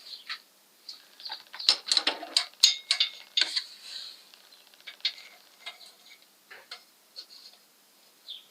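Metal filter wrench ratchets and clicks against a Volvo 145 oil filter being loosened, a close series of irregular sharp ticks and scrapes with pauses between.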